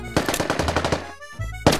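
Rapid bursts of automatic gunfire in a Netease shooter video game, a string of sharp close shots in quick rhythm, then a short pause before a final loud shot.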